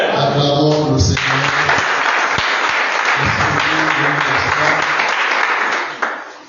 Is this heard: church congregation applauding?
yes